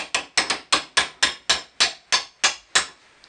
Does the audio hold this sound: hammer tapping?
yes